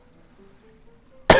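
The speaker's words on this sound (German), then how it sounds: "Hust, Hust." A single sharp cough bursts out at the end after near silence with a faint low hum beneath.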